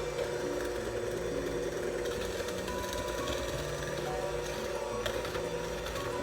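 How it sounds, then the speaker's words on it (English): An electric mixer turns thick chocolate chip cookie dough at a raised speed, giving a steady, fairly quiet whirring motor hum with a faint rhythmic labouring tone throughout. "We turn our mixer up because the dough is getting thicker."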